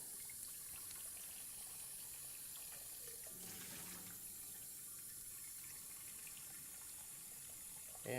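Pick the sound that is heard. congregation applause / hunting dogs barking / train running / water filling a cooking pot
water filling a cooking pot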